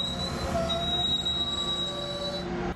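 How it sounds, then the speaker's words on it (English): A Metrolink commuter train from Ventura County rolls to a stop at Chatsworth station, wheels squealing with high, sustained metallic tones over a steady low rumble of rail cars, loud and close until it cuts off at the end. "This could be one of the last times Metrolink train 108 from Ventura County rolls to a stop in Chatsworth."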